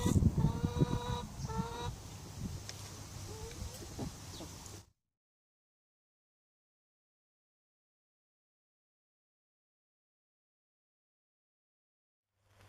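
Chickens cluck and call close by inside their chicken run for a few seconds, a dense jumble of bird sounds, and then everything drops to silence.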